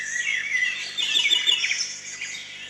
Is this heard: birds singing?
yes